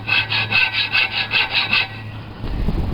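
Hand sawing on a 2007 Kawasaki Vulcan Nomad exhaust during baffle removal, about eight quick, even back-and-forth strokes, close and loud, then the sawing stops and a low clatter follows.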